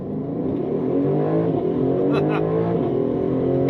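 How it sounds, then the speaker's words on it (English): A 2026 Aston Martin DB12 S, rear-wheel drive, pulls hard from a launch-control start, its engine a loud, steady, close-up roar that climbs gradually in pitch over a few seconds. "to enter launch control or race start, just hold your foot on the brake, pin the throttle."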